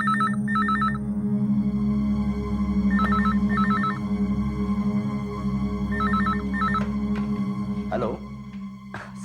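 A telephone rings in repeated double bursts of trilling tones over a steady low hum, with a faint voice briefly near the end.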